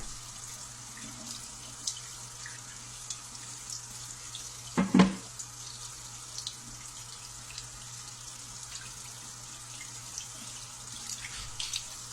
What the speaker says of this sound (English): it's time to wash the bones off